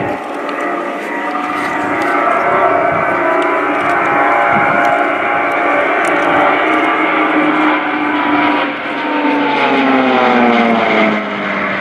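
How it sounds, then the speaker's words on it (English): A formation of eight Swiss Air Force PC-7 propeller aircraft passes at reduced speed during an air display at RIAT 2018, a loud sustained droning roar with a gently shifting pitch near the end. "the 8 PC-7 aircraft approaching from the right have reduced their speeds to 140 knots"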